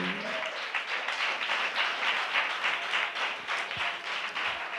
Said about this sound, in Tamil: நல்லா கைத்தட்டி தேவனுக்கு நன்றி சொல்லுவோம்